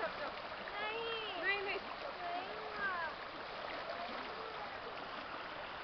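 The river at Malaj Kund flows in a steady, rushing hiss with soft splashes, while people talk over the water throughout.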